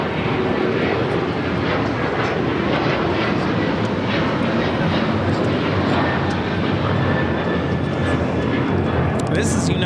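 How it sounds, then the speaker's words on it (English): United Airlines Boeing 737-900ER taking off at LAX for Houston, a loud continuous broadband jet roar close by and steady for the whole stretch, with talk mixed in underneath. "2737 taking off to Houston Intercontinental on the 737-900ER"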